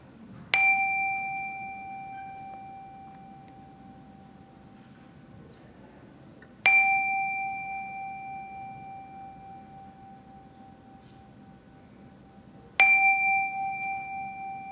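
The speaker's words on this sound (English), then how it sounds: "let us settle our minds and calm our hearts with the ringing of our chime" A meditation chime rings three times during a Unitarian Universalist Sunday service, struck about six seconds apart. Each strike is clear and resonant and fades slowly into a quiet room.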